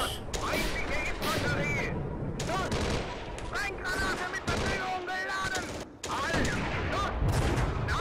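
An anti-tank gun fires in the tank game Steel Fury: Kharkov 1942, with a dense run of loud gunshots and explosions, several sharp reports close together over a continuous battle din, and someone talking throughout.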